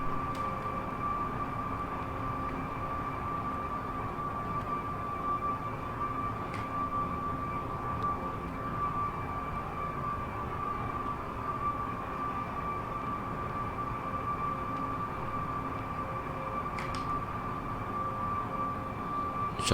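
An Airbus A340 taxis at Kuala Lumpur airport in the Prepar3D v4.5 flight simulator, its engines giving a continuous steady droning hum with a faint whine on top and a few small clicks, with no speech.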